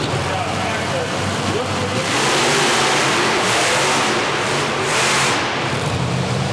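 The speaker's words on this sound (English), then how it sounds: "Schnell launching the Bessie truck" The Bigfoot Bessie monster truck launches at a Monster Nationals event in Corbin, Kentucky, its engine roaring loudly and swelling as it accelerates, mixed with broad crowd and arena noise.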